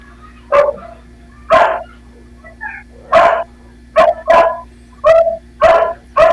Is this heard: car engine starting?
no